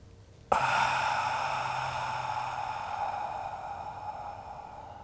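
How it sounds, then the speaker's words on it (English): A steady breath pushed out through the mouth during a beginner evening yoga stretch for hips and lower back, one long sigh-like exhale starting abruptly and fading slowly over several seconds, close and alone. "Exhale out of your mouth."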